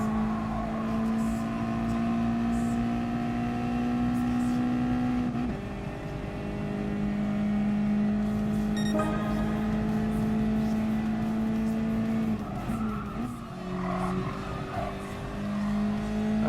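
Race car engine on a sprint track in a racing video game, a sustained steady drone with pitch shifts as gears change and speed builds, holding loud and constant throughout.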